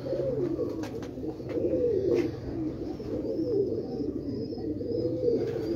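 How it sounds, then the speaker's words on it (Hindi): Soft, continuous cooing from pigeons, a low murmuring rumble that carries on steadily throughout, with faint higher bird chirps now and then. "ये चीने कबूतर है जी"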